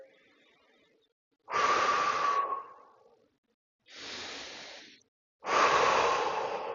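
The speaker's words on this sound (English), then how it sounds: "Take a few deep breaths here." Three deep, audible breaths taken while holding a yoga hip flexor and quad stretch, each a long, close whooshing inhale or exhale separated by short silences, with no talking.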